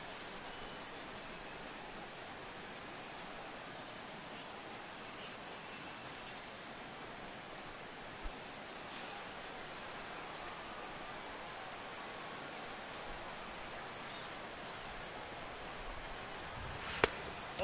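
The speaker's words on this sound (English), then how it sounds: "The rain, as we've mentioned, coming down fairly steadily here at game time" In the video game MLB The Show 16, rain falls fairly steadily during a Phillies at Nationals baseball game, a soft continuous hiss with a few faint isolated taps near the end.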